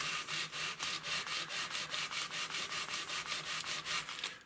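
A Squier Stratocaster guitar being sanded by hand with 600 grit sandpaper, even back-and-forth rubbing strokes repeating at a steady fast rhythm, close and clear with no talking.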